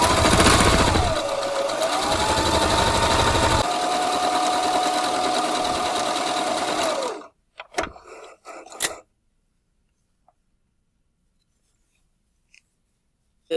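A sewing machine stitches a fabric face mask in one loud, continuous whirring run with a brief pitch dip early on, then cuts off into a few short clicks and near silence.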